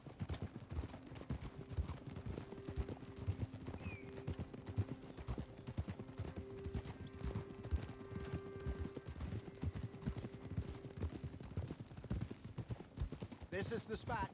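Horse-drawn carriages in the video game Red Dead Redemption 2 produce steady clip-clopping hooves and rolling wheels, faint and continuous, with an occasional mechanical tone, while a voice talks over it.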